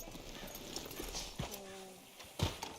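Horse hooves clip-clop faintly in Red Dead Redemption 2, a few soft, uneven steps on the ground, joined midway by a short horse whinny and set against quiet ambient background.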